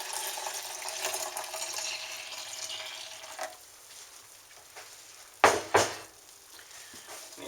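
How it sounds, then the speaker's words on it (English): Home-brewed kombucha is poured from a big bottle into a pitcher sitting in a kitchen sink, giving a steady splashing gush that stops partway, then a couple of short sharp clunks and trickles near the end. "grab that big bottle and pour it into that pitcher"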